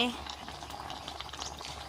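Water bubbles at a steady boil in a pot for bamboo shoot and mushroom curry, a soft continuous burbling heard up close at low volume.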